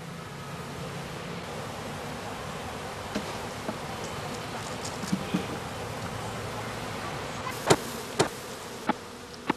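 Honeybees buzz steadily around a Magazinbeute hive box and an artificial swarm box, a dense continuous drone with a few sharp clicks and knocks near the end.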